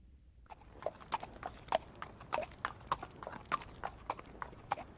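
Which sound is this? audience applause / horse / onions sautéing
horse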